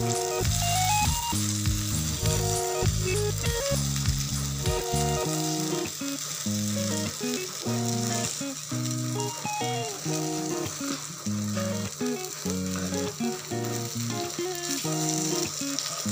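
Semolina-coated prawns shallow frying in a pan sizzle steadily and close, a bright continuous crackle running beneath background music throughout.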